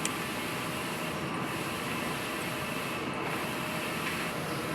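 A steady, loud mechanical whirring and hissing from a 6 ft sublimation printer running a head cleaning cycle, with no gaps and no talk.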